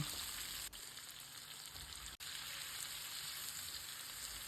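Onion and carrot fry with chopped red bell pepper and tomatoes in a small pan. A steady, even sizzle runs throughout, close and continuous, broken only by a couple of brief dips.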